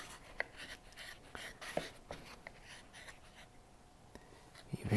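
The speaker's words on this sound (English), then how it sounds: "take our number 3 gouge and get rid of this surface wood." A number 3 gouge carves surface wood from a Christmas elf figure, giving quiet irregular scraping and shaving strokes with soft clicks, close and faint.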